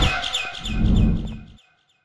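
A bird chirping in the Garten of Banban 6 game, a quick run of bright repeated chirps over a low rumble that fades out to silence near the end.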